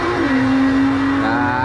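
A BMW 135 hatchback on the Nürburgring during a tourist drive, its engine a loud, close, continuous drone with the pitch climbing toward the end.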